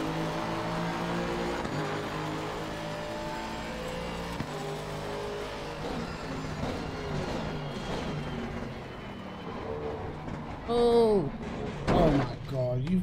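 Race cars accelerating off the start line at Hungaroring in a racing game, including an Aston and a BMW, a steady layered engine drone with rising revs near the end and a voice talking over it.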